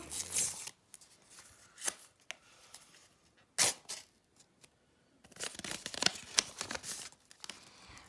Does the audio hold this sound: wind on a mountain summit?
no